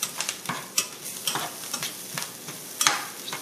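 Garlic frying in a pan while it gets stirred, with light sizzling under a series of sharp utensil scrapes and taps against the pan, close and fairly loud.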